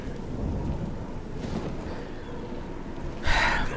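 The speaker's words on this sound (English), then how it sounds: "No, it's still kind of raining, a little bit." Steady rain hisses through a stormy scene in The Elder Scrolls IV: Oblivion, with low rolling thunder rumbling underneath and a sharper, brighter burst of rain or thunder near the end.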